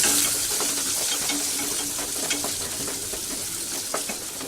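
Green chili and ginger paste being stirred in a hot pan for vrat batata vada gives a steady, close sizzle and fry with faint scraping, continuous throughout and with no talk.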